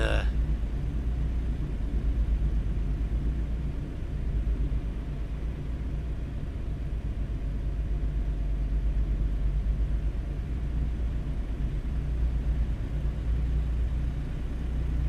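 Steady low engine rumble of a bus driven in the video game Busbound, a continuous loud drone without breaks and no clear speech over it.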